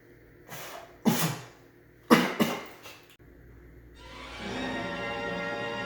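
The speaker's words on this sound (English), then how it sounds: "I feel a cough coming on." A person coughs in public, with two loud, harsh bursts of coughing close by, followed by quiet and then a rising wash of background noise.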